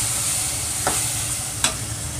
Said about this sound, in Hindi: अब डालेंगे इसमें हम एक बड़ा टमाटर कटा हुआ